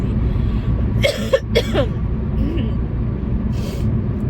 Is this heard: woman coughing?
yes